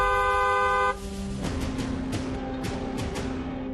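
Car and truck horns honk repeatedly in heavy Delhi road traffic, a few short overlapping toots standing out over a steady engine rumble.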